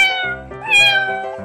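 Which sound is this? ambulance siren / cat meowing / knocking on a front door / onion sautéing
cat meowing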